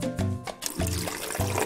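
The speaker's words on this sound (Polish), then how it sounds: "Wystarczy nalać wody." Water poured into a small household hygiene gadget, a steady splashing pour that runs for most of the moment over a droning, tonal background.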